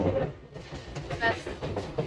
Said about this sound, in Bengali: আমরা সবাই লোকাল ট্রেনে উঠে পড়েছি।